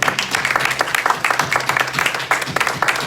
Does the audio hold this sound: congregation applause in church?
yes